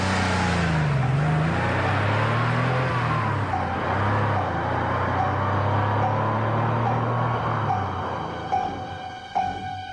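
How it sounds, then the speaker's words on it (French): A car drives away, its engine a steady loud drone that lowers in pitch and fades slightly toward the end, with no voices. "Et la voiture de monsieur Timothée Eustache Macandal s'éloigne."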